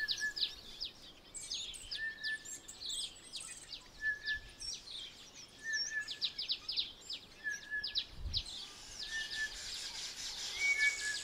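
Malachite sunbird sings, a run of quick, high, thin chirps and twittering phrases repeating over steady background ambience, fairly faint and close, with no talking.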